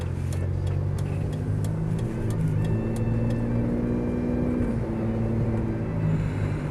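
An automatic BMW 635CSi pulls away with a smooth mid-pitched engine hum and gently rising revs, heard steadily from inside or close by.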